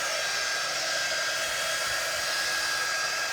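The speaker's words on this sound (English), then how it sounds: "I'm gonna go ahead and get my quick dry tool. And I'm just gonna go ahead and clean it, dry this up" A quick dry tool, a small hot-air blower, drying paint on a craft project: a continuous, even, loud whooshing hum running steadily throughout, close up and alone with no voices.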